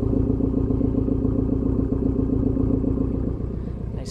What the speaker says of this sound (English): rumble out of the exhaust.